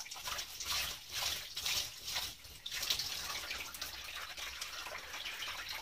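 Water splashes and trickles in short, rhythmic bursts as a face mask is rinsed off with a wet sponge, then settles into a softer steady wash; quiet and close.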